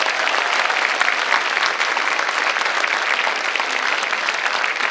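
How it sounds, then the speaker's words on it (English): Sustained audience applause at a high school underclassmen awards night, steady dense clapping filling the room for about five seconds without a break. "a nice round of applause for all of our content award winners"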